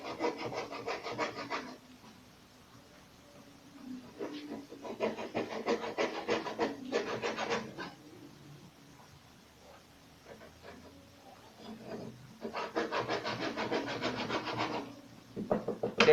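A hand saw works slowly through a wooden strip for a modern wood-and-melamine table, giving bursts of steady rasping back-and-forth strokes separated by quiet pauses, close and fairly loud with no talking.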